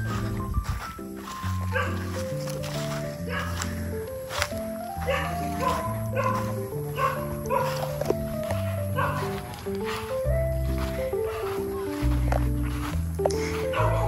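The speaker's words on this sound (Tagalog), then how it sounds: "pasensya na medyo maingay yung mga aso" Dogs barking repeatedly nearby, with yips and whimpers mixed in over background music.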